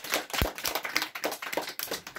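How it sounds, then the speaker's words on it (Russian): An audience at a school literary contest award ceremony gives scattered, uneven claps, separate sharp hand strikes rising and falling over about two seconds with little talk. "Аплодисменты."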